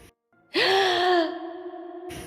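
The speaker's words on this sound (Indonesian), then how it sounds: "film ini diakhiri dengan suara nafas yang keluar dari hidung" One long breath exhaled through the nose comes out as a voiced, sigh-like moan after a short silence, loud at first and then slowly trailing off.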